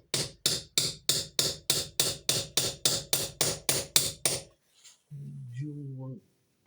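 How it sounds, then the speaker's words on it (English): A hammer strikes a coolant T pipe fitting on a GAZ 52 truck about a dozen times in a steady, sharp rhythm, then stops and a voice speaks briefly. "Let's ask it with the hammer."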